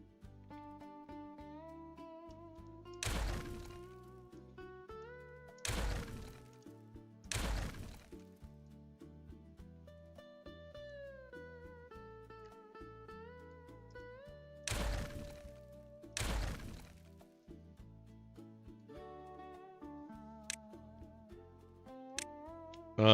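Structures being demolished in Timberborn: a handful of sharp crashing bursts spaced apart, heard over soft tonal background music.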